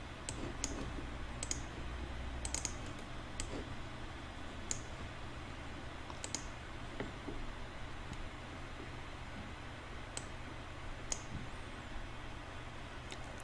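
Mouse clicks while navigating a menu in meeting software: sharp, faint clicks scattered irregularly over a steady low background hiss, with no talking.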